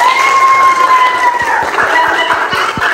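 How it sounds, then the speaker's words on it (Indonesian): Students clapping in a classroom after a lesson, a short run of soft, spaced hand claps rising under a noisy room of children's voices and a sustained tone. "Oke, tepuk tangan."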